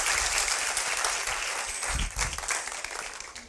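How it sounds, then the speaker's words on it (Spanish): A church congregation applauds during a Spanish-language service, a full burst of clapping with some low thumps and shifting intensity, heard close and loud throughout. "denle un aplauso al Señor."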